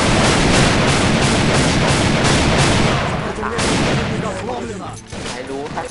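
Loud, continuous spray of automatic gunfire from a Galil rifle in the AVA shooter game, dense rapid shots for several seconds before tapering off, with a voice talking at the end.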